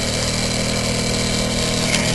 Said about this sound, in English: Yep, just very smooth engine as well.